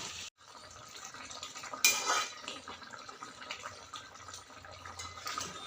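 Vegetables with chilli, tomato and garlic are stirred in a wok on an electric heater. A utensil scrapes and clinks against the pan up close, with watery sizzling underneath and one louder clatter near the start.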